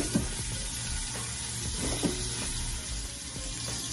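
Tomatoes softening in a pan sizzle quietly in a home kitchen while curry is being made, a soft continuous frying hiss with a few faint clinks and stirring sounds.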